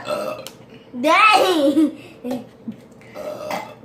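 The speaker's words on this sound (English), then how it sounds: "Could you see how many times you could burp or something?" A long, loud burp from a young person during a burping challenge, followed by brief talk and a short laugh.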